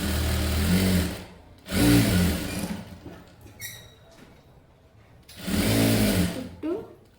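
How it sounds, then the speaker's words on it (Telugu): Sewing machine stitching a seam on a saree blouse, running in three loud bursts of steady whirring with short pauses between, while a voice talks in the gaps. "ఇప్పుడు ఏంటంటే దీని మీద ఒక కుట్టు అనేది వేసేసుకోవాలి."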